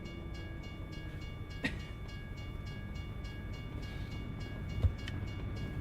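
A passing train in American Truck Simulator gives off a continuous low rumble with faint rhythmic clatter and a couple of sharp knocks, a steady mid-distance roll with no talking.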